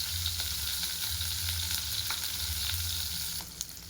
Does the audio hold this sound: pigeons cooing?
no